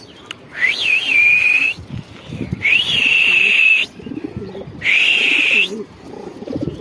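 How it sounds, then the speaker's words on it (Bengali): Three long, loud rising whistles ring out close by near pet pigeons being released, separated by pauses, over a low rustling background with no talk. "আমাদের কবুতর সারছি তাই আমরা আমাদের ব্ল্যাককেও ছাইরা দিই"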